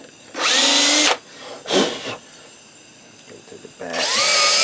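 A power drill drives screws into a wooden birdhouse, with two long whining bursts and a shorter one, close and loud, under brief talk in a workshop.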